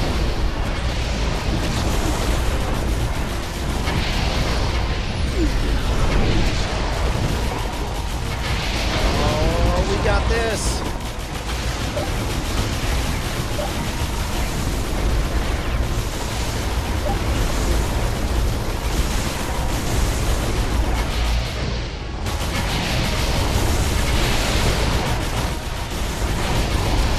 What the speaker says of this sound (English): if you're listening to audio only, that's all you're gonna hear is explosions